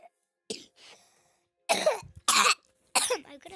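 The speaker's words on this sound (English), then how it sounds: "I've got a really bad cough" Several harsh, chesty coughs from one person: a faint pair early, then three loud separate bursts spaced about half a second apart, close to the microphone in a quiet room with no talking.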